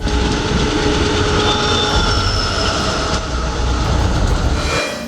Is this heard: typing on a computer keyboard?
no